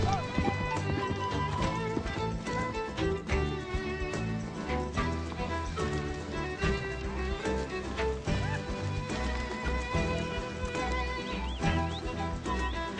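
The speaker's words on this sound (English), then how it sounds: "These vaqueanos move their horses down from the mountains before winter sets in." Horses' hooves clip-clop steadily as vaqueanos drive their herd down from the mountains, with a dense, tonal backdrop running continuously beneath the hoofbeats.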